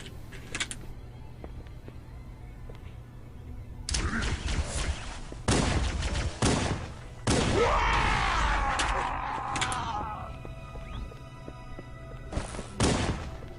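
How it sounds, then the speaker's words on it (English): Gunfire in Halo: Combat Evolved on PC comes as several sharp bursts and single shots spread across the stretch, mixed with thuds and a rising energy whine in the middle, loud and close. "after that, you have to start shooting."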